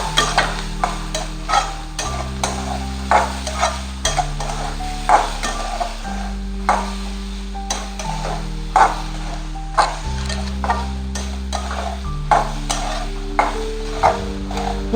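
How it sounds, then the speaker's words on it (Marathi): A spoon scrapes and stirs cabbage momo filling with salt in a pan, making regular soft knocks about every second over a steady background of music tones. "एकदम लाईटली मीठ टाकणार आहे. त्याला मिक्स करून घेते."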